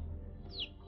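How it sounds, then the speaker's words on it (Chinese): A single brief bird chirp rises faintly out of a quiet mountain forest in southern Hunan, heard once over low ambient hush. "附近的一阵鸟鸣声引起了大家的注意。"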